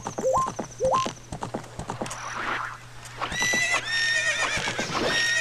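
A horse in a video game gives two sharp whinnies, followed by a quick run of clip-clopping hooves and a longer, shaky neigh, all loud and close with no speech.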